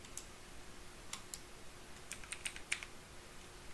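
Soft typing on a computer keyboard while writing Java code, a few scattered light key clicks, close but faint over a steady low hum.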